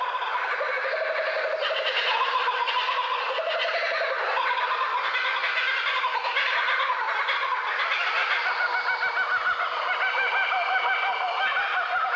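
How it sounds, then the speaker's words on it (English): A group of Australian bush kookaburras sends out a raucous laughing chorus to proclaim territory, dense overlapping cackles sustained throughout at moderate distance. "This chorus of raucous laughter from one group of kookaburras proclaims their territory to neighbouring clans."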